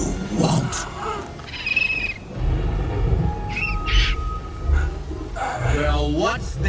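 A bird-call trick from the animated film A Bug's Life, with chirping calls heard among orchestral score and effects, while voices speak over the busy mix.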